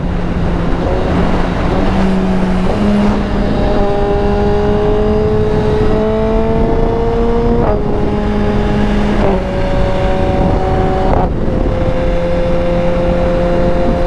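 A Suzuki GSX-R1000R sport motorcycle with an SC-Project slip-on exhaust idles and revs loudly and close, its exhaust tone rising and dropping in pitch through several blips of the throttle.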